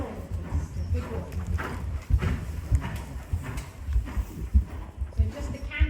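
Horse hooves clip-clopping at a walk in a British Dressage arena session, soft rhythmic thuds close by while an instructor's voice talks over them.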